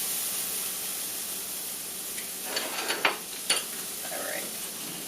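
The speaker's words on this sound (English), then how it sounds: "because now it's sizzling" A soft, steady sizzle of banana oatmeal pancake batter frying in an oiled pan, with a few light scrapes and taps of a utensil against the pan.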